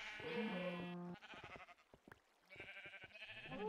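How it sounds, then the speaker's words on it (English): Sheep in the Minecraft video game bleating, several clear nasal bleats close up with short pauses between them, with faint clicking in the gaps. "I've got all these sheep here that I can shear"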